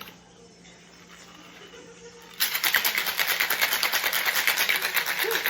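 Margarita being shaken in a cocktail shaker with lime juice, a steady rapid rattle of ice that starts abruptly midway after a quiet pause and continues loud and rhythmic to the end.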